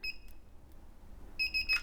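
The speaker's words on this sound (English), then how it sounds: "Yes, something in my drawer is beeping." Something inside a drawer beeps in short high electronic chirps, a pair at first and then a quick run of several near the end, faint and thin against a quiet room.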